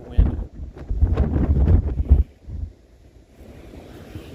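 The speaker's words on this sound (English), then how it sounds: "Here comes the wind." Outdoor wind gusts buffet the microphone with heavy low rumbling for about two seconds, then ease to a quieter breezy hiss, beside a Cub Cadet ZT1 54 zero-turn mower.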